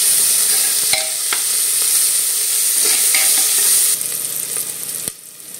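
Onion stir-fried in a pan for dal khichdi, a steady loud sizzle with a few scraping stirs of a spoon, running alone without talk and dropping off near the end.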